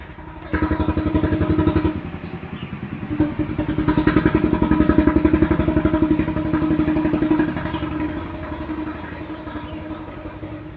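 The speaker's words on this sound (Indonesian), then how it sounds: "ada mesin penggiling padi lewat" A mobile rice milling machine drives past a house in Indonesia, its engine chugging in a steady rapid rhythm that swells as it nears and then slowly fades, with no talking.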